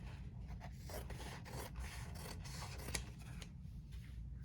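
Scissors trim fabric around an embroidered appliqué on a shirt, producing a faint, close series of repeated rasping snips and rubs at an irregular rhythm against a quiet background.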